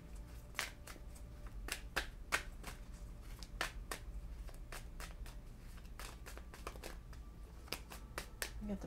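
Quiet, crisp tarot card shuffling with sharp flicking snaps scattered irregularly over a low steady hum, faint and close.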